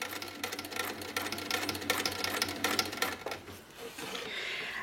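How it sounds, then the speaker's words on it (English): A sewing machine runs at a slowed pace while quilting along a ruler, giving a continuous close mechanical whir with fine rhythmic needle ticks and no voices. "I'm actually just going to slow that down so that I can talk as I'm quilting"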